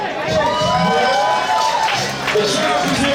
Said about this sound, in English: I want you guys to give a big round of applause for our first musical guest